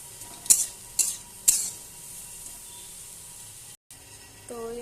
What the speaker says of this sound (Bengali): কড়াইয়ে পেঁয়াজ দিয়ে দিয়েছি মাংসটা রান্না করার জন্য।